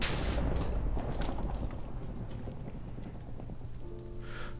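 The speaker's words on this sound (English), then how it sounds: "And we have a nice little firework display." Minecraft fireworks burst and crackle in a dense, noisy display, loudest at the start and tapering into a steady fizzing patter, with a short tonal effect near the end.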